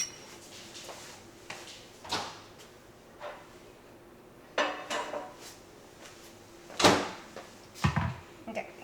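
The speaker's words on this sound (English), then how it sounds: "Let me get the butter out of the microwave real quick." A microwave door clicks open and shut in a home kitchen while butter is taken out, a series of sharp knocks and clatters spread out over several seconds with soft background noise.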